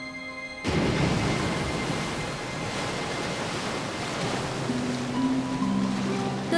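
Sea waves wash against the coast in an anime scene from Tales of the Abyss, a steady broadband rush with wind, and soft music tones entering toward the end.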